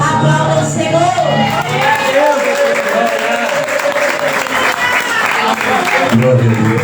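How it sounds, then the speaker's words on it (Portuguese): A church congregation at a pastor's installation service applauds loudly and steadily, with clapping blended into shouts, voices and music that carry through the whole stretch. "Aplauda o Senhor"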